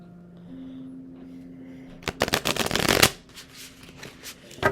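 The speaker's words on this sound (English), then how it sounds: "as you can see, I'm shuffling my cards." Tarot cards riffle in a dense burst of rapid shuffling for about a second, rising out of a quiet room hum, then a few softer card flicks follow and trail off.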